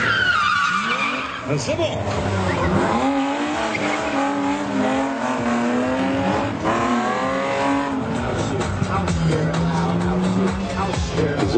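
BMW E36 cars skid through a stunt driving show, with tire squeal and engine noise running beneath a loud, continuous German-speaking announcer.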